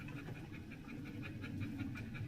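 A pet dog pants steadily with quick, rhythmic breaths, close by and fairly quiet, over a low background hum.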